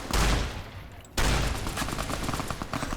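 A Fallout New Vegas firefight in Freeside: dense, overlapping gunfire bursts, a loud volley, a brief lull, then another sustained rattle of rapid shots, with no talking over it.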